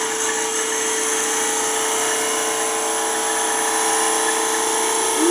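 A wood lathe spins while a gouge braced on the tool rest hollows out a garlic keeper box, thinning its walls. A loud, steady high whine runs throughout with no voices.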